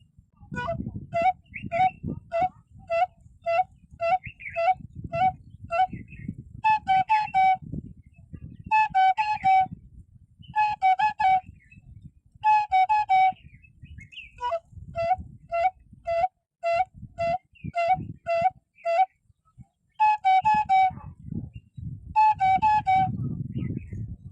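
A bamboo flute mimics various animal and bird calls in a long series of short, trilling, whistled phrases with brief pauses, heard close over a low background rumble.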